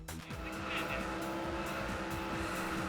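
Race cars roar through a Daytona USA race on the Dreamcast, with engines droning steadily and tires squealing, loud and continuous throughout.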